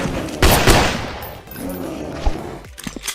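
Gunfire from the mobile first-person shooter Modern FPS Military Strike, which has players shooting zombies. Several sharp shots and bursts rattle off close and loud in an irregular rhythm over a busy game background.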